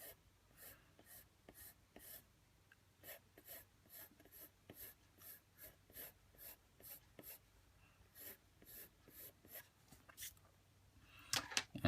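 A pencil scrapes across paper in rhythmic, evenly spaced strokes while hair is drawn and shaded on a portrait, close and quiet, with a louder rustle at the very end.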